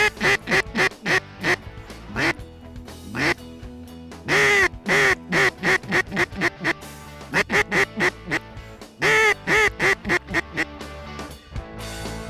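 Many ducks quacking loudly and repeatedly in bursts over a harvested pea field during a hunt, calls overlapping in dense rhythmic runs with brief pauses, near and loud with no talk.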